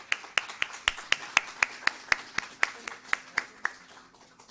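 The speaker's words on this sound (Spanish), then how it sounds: "Un fuerte aplauso, por favor." Slow, evenly spaced hand claps ring out one by one in a loose rhythm, as a small audience gives a round of applause at a certificate presentation honoring a doctor, gradually thinning and fading toward the end.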